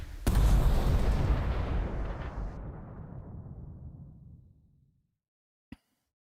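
A single mortar shot in the World War II tactics game Burden of Command, a loud booming blast that rumbles and fades over about four seconds, followed by a brief faint click.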